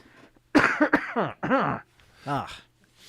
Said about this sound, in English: I'm going to cough into my elbow.